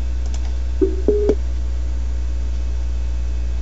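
A Skype phone call through a FreeSWITCH setup on Windows: a few short dialing tones beep in quick succession over a constant low electrical hum, then the hum continues alone.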